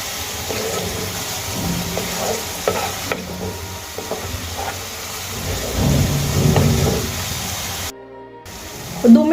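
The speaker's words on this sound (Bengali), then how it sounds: "এবার খুব ভালো করে গুঁড়ো মশলাগুলো পেঁয়াজের সঙ্গে আমি কষিয়ে নেব।" Ground spices and onions sizzle steadily as they are sautéed in a pan for a Punjabi kadhi pakora, with stirring scrapes over a continuous frying hiss and a brief drop-out near the end.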